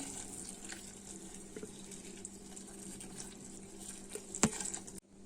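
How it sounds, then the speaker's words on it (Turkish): Hot water poured over sun-dried tomatoes in a kitchen, a steady running splash lasting several seconds at moderate closeness, with a brief sharp clink near the end before it cuts off. "Domateslerimizin üzerine çıkacak kadar sıcak su ilave ediyoruz."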